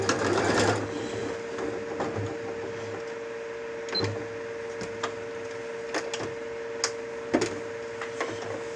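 A sewing machine stitches a foam-lined cosmetic case, a steady whirring run with short pauses and clicks between bursts, close and moderately loud.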